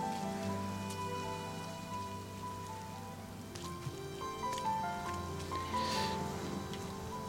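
Steady rain falling in the Rime video game, a continuous patter of drops under a droning musical score, even and moderately close throughout.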